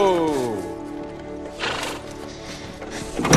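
A horse whinnies loudly at the start, followed by snorting and shuffling hooves, with people talking over the sounds.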